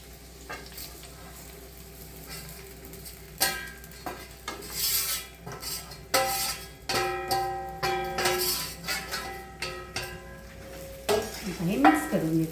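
A spoon scrapes and clinks against a pan while sabudana khichdi is stirred over a sizzling flame, in irregular bursts of close, moderately loud strokes.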